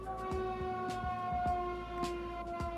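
Emergency vehicle siren passing outdoors, a steady wailing tone that holds and slowly shifts pitch, mixed with low traffic rumble and periodic thumps, heard alone without talking.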